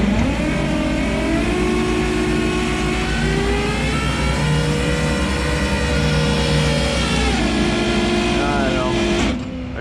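A tow truck engine revs steadily while the hydraulic deck is raised, a loud, close, sustained droning whine with shifting pitch that cuts off near the end.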